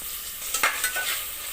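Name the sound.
tomatoes added to frying onions in pan, sizzling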